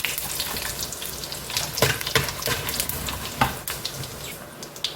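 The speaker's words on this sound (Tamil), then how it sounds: "சோம்பு கொஞ்சம் வச்சுருக்கேன் இதில் போட்டுடலாம் நல்லா பொரியட்டும்" Whole spices (fennel, cardamom, cloves and cinnamon) fry in hot oil for a home-style chicken biryani: a continuous close sizzle with crackling pops and occasional stirring scrapes.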